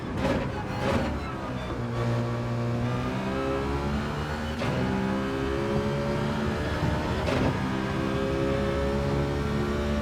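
A race car at full throttle in Gran Turismo 7 on the Circuit Gilles Villeneuve in Canada, its engine howling steadily and climbing in pitch, with a few quick drops marking gear shifts, loud and constant throughout.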